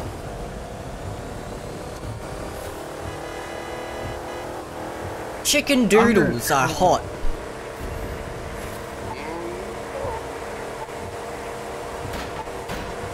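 A car engine revs and races in the video game The Crew 2, a steady droning motor throughout with a louder, sharper roar of revving in the middle, while a player talks over it.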